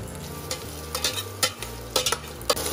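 Mandarin slices fry gently in butter in a saucepan over low heat, a soft steady sizzle broken by several clicks and scrapes of stirring, close and quiet with no voices.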